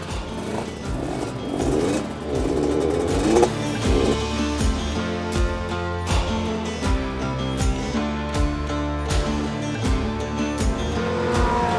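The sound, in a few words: Kawasaki KR-1S two-stroke motorcycle engine warming up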